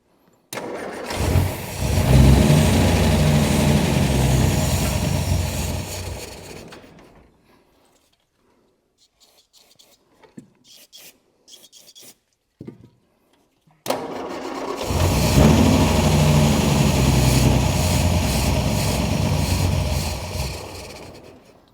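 A 1962 Austin Healey 3000 MK II that sat for over 20 years, with its carburetor jet set high, cranks and runs roughly in a loud burst. A quiet gap with a few clicks follows, then a second sustained run.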